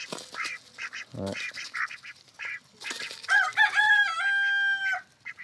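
Chickens and a rooster wait together outdoors at sunrise. Close, clucking calls come in short bursts, then a rooster's long, loud crow rings out clearly near the end.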